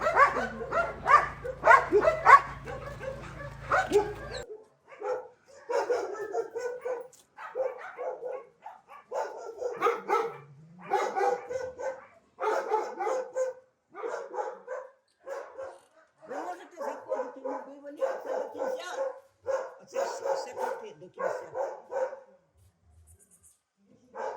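Dogs barking and yipping in bursts throughout at an animal shelter in Hostomel, Ukraine, several animals close by, with a low hum at the start that cuts off after a few seconds.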